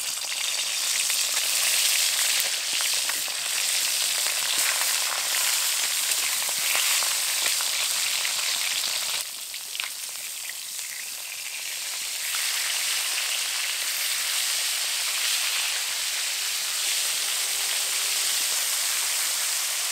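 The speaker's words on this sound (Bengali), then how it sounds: "তেল গরম হয়ে গেছে এবার মাছের মাথাগুলো ভেজে নেব" Rohu fish heads fry in hot mustard oil in a kadai, producing a loud, dense, continuous sizzle that briefly softens midway and then carries on steadily.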